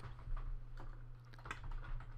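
Computer keyboard keys tapped in short irregular bursts while entering text in title-design software, faint and close over a steady low hum.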